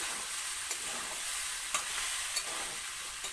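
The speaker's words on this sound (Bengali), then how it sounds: "আর একটু ভাজা ভাজা করে নিই।" Spices for Bengali-style masala khichuri fry in a pan while a spoon stirs them. A steady close sizzle runs throughout, broken by a few light scraping clicks, with no talking.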